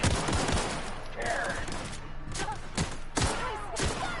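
Repeated bursts of gunfire from The Outer Worlds video game, several sharp shots spaced over a few seconds amid steady game background noise, with no talk over them.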